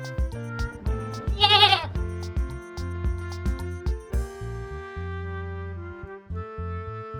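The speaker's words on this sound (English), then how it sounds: "Goat." A goat bleats once, a short wavering cry heard clearly over a steady musical backing of plucked notes and chords.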